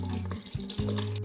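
Acetic acid stop bath solution poured into a darkroom container, a close liquid pour with splashing bursts and gurgles over about a second, with no talk.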